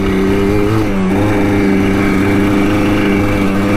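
Yamaha Blaster ATV engine revving while riding, a loud, close, buzzy single-cylinder drone held steadily with little variation, braking around a loop after a repair for bogging and lack of power.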